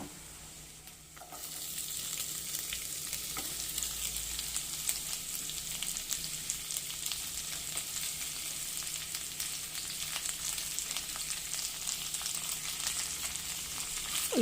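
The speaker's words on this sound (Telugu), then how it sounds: "ఇప్పుడు ఇందులో ఉల్లి తరిగి వేసుకున్నాను" Chopped onions frying in oil over tempering spices for a dried prawn and egg curry, making a loud, continuous close sizzle that starts suddenly and holds steady with light crackling.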